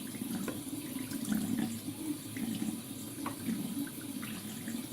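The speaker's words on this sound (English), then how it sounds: "I tend to use a washcloth when I'm rinsing product off" Tap water running steadily into a sink while a face is rinsed with a washcloth, a soft continuous splashing flow, close and fairly quiet, with no talk.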